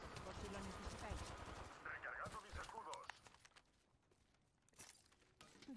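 Rapid gunfire bursts from an online battle-royale shooter game, sharp cracks in quick succession mixed with game effects and dropping to sparser shots, while a player talks over the action.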